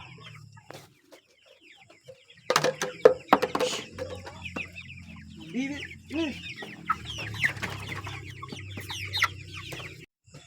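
Flock of 45-day-old chickens fed at night, clucking and squawking close by in a busy, overlapping chorus that starts after a quiet opening, with a person speaking briefly.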